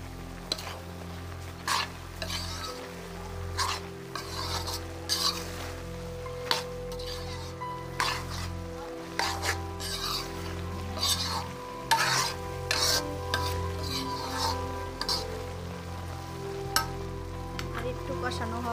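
A curry of Malabar spinach, potato and prawns sautés in a pan under a steady sizzle, punctuated by repeated scraping stirs at irregular intervals, close and moderately loud with no talking.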